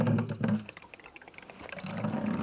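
Water gushes steadily from the open valve of a tankless water heater into a bucket during a descaling flush, a continuous near pour with sputtering bursts as trapped air escapes the line.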